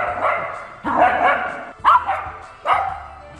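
Dogs playing and chasing each other let out four sharp, close barks and yips in quick bursts separated by short pauses.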